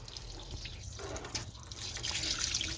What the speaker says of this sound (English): I'm gonna go ahead and drain the water out of this radiator